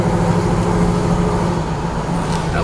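1969 Chevrolet Chevelle SS with a 454 big-block V8 accelerating at part throttle, a steady loud low engine rumble with road noise, heard from inside the car.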